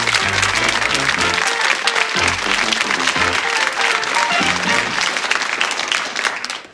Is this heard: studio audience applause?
yes